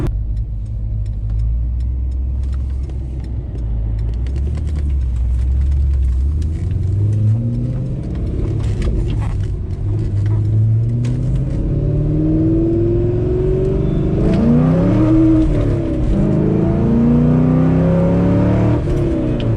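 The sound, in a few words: sports car engine accelerating while driving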